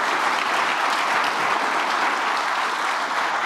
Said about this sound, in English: let's give a real thank you. Warm thank you so applause.